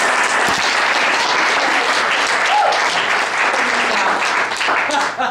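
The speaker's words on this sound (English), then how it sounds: "Let's all hear a round of applause for mom." An audience at a stand-up comedy show claps and cheers for the comedian's mother seated in the front row: a loud, dense, sustained burst of applause that runs steadily for several seconds before starting to thin at the end.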